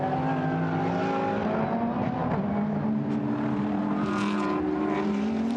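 A Lamborghini GT race car on the Paul Ricard circuit drones loudly and continuously, its engine note holding steady and shifting slightly in pitch as it runs along the track, with no break in the roar.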